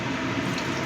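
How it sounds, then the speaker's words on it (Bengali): Hot water saved from boiling chickpeas pours into a chana masala pan as a brief, continuous splashing gush. "এবার আমি যে চানাটা সেদ্ধ করে রেখেছিলাম সেই জলটা দিয়ে দিচ্ছি।"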